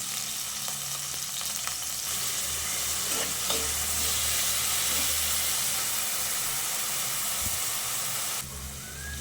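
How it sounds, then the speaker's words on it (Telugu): Thinly sliced onion frying in oil for okra curry gives off a loud, continuous sizzle and hiss close by, with occasional stirring sounds and a brief drop in level near the end; no one speaks. "ఒక పెద్ద ఆనియన్ తీసుకొని ఇట్లా సన్నగా తరిగి వేసుకోవాలి"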